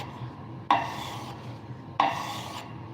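Freehand sharpening of a tool by hand, heard as two distinct rasping strokes about a second apart, each starting sharply and trailing off, close up over a low steady background hum.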